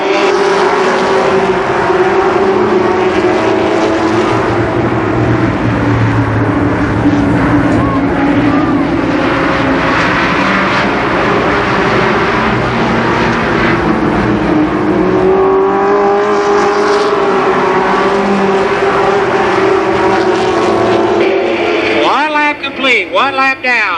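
Stock cars at Columbus Motor Speedway roar past in a loud, continuous blur of engines during a limited sportsman race, the pitch swelling and fading as the field laps, with a commentator's voice running over the noise.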